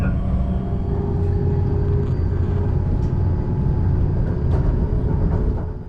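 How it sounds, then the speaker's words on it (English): A Great Western Railway Pullman dining train running from Plymouth to London Paddington, heard as a steady low rumble of wheels and carriage with faint clatters, continuous and without speech. "this is the 1315 Great Western Railway service to London Paddington"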